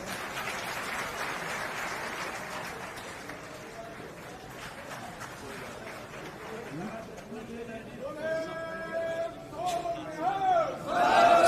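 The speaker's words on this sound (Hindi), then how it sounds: "तालियों के साथ स्वागत।" A political rally crowd gives a loose burst of clapping and cheering to welcome a speaker, settling into murmur and shouts from the audience, with a voice calling out over the noise near the end.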